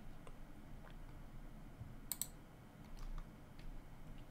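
A computer mouse gives a few soft, sparse clicks, including a quick close double click, over a faint hum of room noise.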